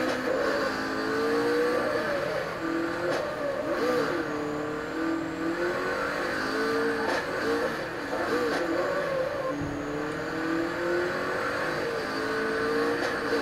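Car engine in the racing game Super Street The Game on PS4, revving steadily with rising and falling pitch sweeps, loud and continuous, with brief swells as the throttle changes.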